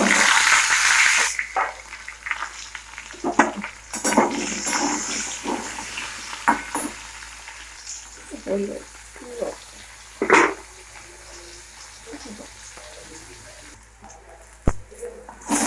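Potatoes hit hot oil with cumin seeds in a kadai, opening with a loud burst of sizzling that settles into quieter frying, broken by occasional clatters and stirring.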